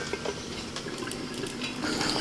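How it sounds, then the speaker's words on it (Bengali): A metal lid settles onto a cooking pot of simmering banana-flower curry with fried soybean chunks, giving a few faint clinks and taps over a low bubbling background. "আবার আমি ঢাকা দিয়ে দিচ্ছি।"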